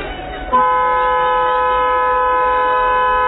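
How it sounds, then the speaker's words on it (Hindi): A loud, steady horn tone sounds after a brief rumble and holds unbroken to the end, like a train horn blaring nearby. "आवाज आ रहा है रेलगाड़ी चलने का?"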